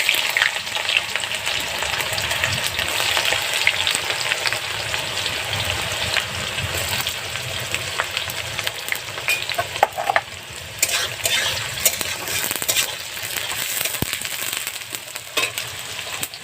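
Cumin seeds and onions frying in oil over a clay wood-fired stove for a duck curry, a loud continuous sizzle with frequent spatula scrapes and stirs throughout.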